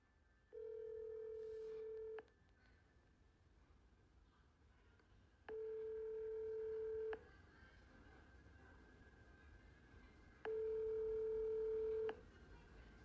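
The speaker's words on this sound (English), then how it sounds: "Now, listen to where this phone number goes to when you call this" A telephone handset plays three identical long electronic tones with short gaps between them, steady and fairly faint against a quiet line, like a call connecting to a childcare center's listed number.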